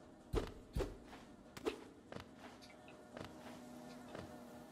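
Giant bumblebees in the Hollow Knight game give faint buzzing hums, broken by several sharp, thudding footsteps and soft impacts spaced irregularly across the scene.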